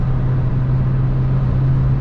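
A 2005 Opel Astra G Classic 1.6 Ecotec engine drones at a steady, low idle-like hum, close and continuous, with no other sounds.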